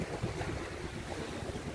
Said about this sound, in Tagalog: andito na tayo sa dagat